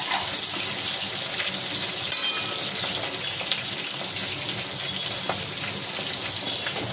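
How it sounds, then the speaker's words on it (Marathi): Green chillies frying in hot oil in a pan, a steady bubbling sizzle with light crackles and a few sharp pops, close and continuous with no talk. "आपल्याला सगळीकडून मिरच्या फ्राय करता येते, नाही तर मग काय एका साईडने फ्राय होते."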